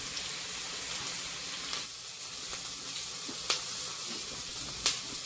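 Onions and marinated tofu sizzle and fry steadily in a pan, a continuous soft hiss with occasional brief crackles and stirring clicks, no voices.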